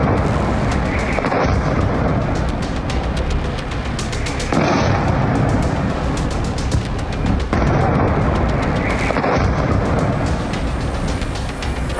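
Iranian missile strikes and explosions in Israel, including Tel Aviv: a dense, continuous roar of heavy booms and blasts, loud and near, with repeating bursts every few seconds and no voices.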